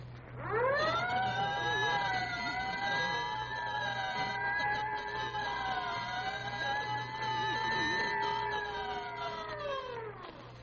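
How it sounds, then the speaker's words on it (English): A wailing siren from a 1932 radio broadcast rises, holds a long undulating tone, then falls away, loud and steady with a faint low hum beneath. "Whenever you hear the siren and bell, think of Texaco Fire Chief gasoline."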